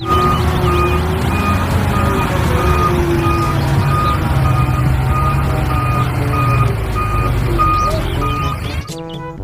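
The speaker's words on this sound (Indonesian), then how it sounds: "Di sini ada mobil dump truck." A toy dump truck gives steady, evenly spaced reversing beeps over a loud mechanical motor drone, continuing for about nine seconds before a brief clatter at the end.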